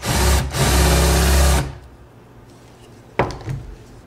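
A power drill countersinking a hole in deer antler, loud whirring for about a second and a half, then quiet with a sharp knock and a brief scrape.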